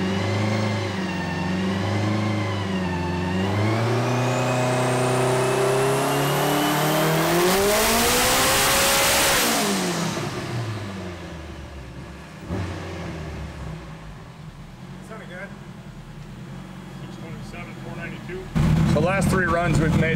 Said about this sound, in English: This car is really different having it on the dyno, because it comes in super hard.